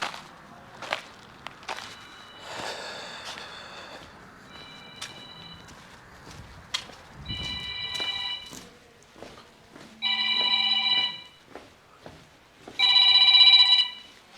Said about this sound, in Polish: Znowu telefon.